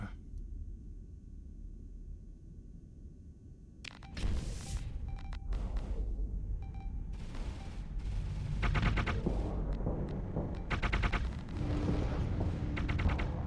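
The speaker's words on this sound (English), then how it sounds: "Harpoon MRM launchers, yep." Harpoon MRM missile launchers fire during a space battle in Starsector, producing a dense stream of rapid, booming launch and impact bursts. It starts after a quieter rumbling lead-in and stays loud and layered to the end.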